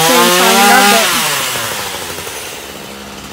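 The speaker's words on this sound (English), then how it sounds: "He just went crazy with the chainsaw." A chainsaw cuts through wood near a home, its engine loud and close, revving high at first and then settling into a steady, slowly fading drone, with no talking.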